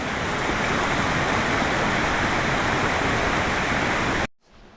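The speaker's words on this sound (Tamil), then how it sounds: "இந்த செண்பகாதேவி அருவியா மேலே போயிட்டுருக்கோம், பார்க்கலாம் எப்படி இருக்குன்ட்டு" Shenbaga Devi waterfall at Courtallam roars as a loud, steady, dense wash of falling water heard close up, then cuts off abruptly near the end.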